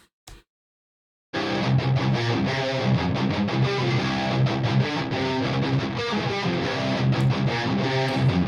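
Dense, heavily distorted electric guitar riffing plays loud and steady for several seconds after a brief blip and a pause, with no voices.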